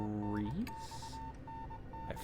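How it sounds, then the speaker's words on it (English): Intermittent telegraph-like beeping from the Spirit Hunter: Death Mark video game: a steady, mid-pitched tone broken into short dashes, continuing at an even level after a brief vocal sound at the start. "The beeping becomes gradually louder, almost as if it's trying to tell me something."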